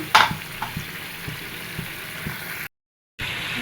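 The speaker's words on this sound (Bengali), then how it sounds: "এবার মাছ ভেজেগুলো দিয়ে দিলাম" Fried fish pieces drop into a pan of bottle gourd cooking on the stove, bringing an immediate loud sizzle with a few clattering stirs and bumps, then steady frying hiss after a brief break.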